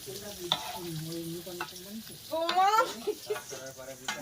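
Brinjal slices frying and being stirred in a pan alongside meat cooking in a Sundarbans village kitchen, giving a soft sizzle and occasional scrapes under nearby talking.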